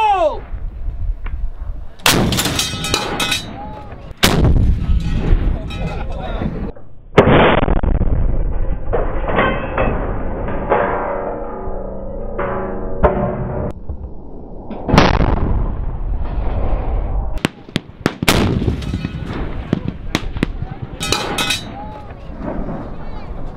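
A Hellcat tank destroyer's cannon fired by Panzerfabrik outdoors, with several loud, sharp booming blasts spread through the clip, each followed by rumbling decay, and people talking and cheering between shots.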